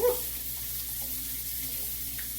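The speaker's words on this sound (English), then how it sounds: "I got to wash my hands, y'all." A kitchen tap runs steadily as hands are washed at a sink, a faint continuous broadband hiss of flowing water with small splashes, heard alone without talk.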